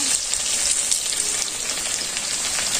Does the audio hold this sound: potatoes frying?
yes